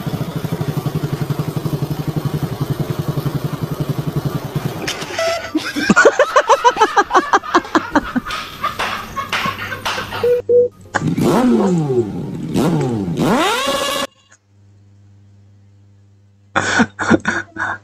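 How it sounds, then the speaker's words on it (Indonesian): A Kawasaki Ninja motorcycle engine idles, then revs repeatedly in sharp rising bursts, loud and close, with a short silence before a final burst of revs. "Motor Kawasaki Ninja"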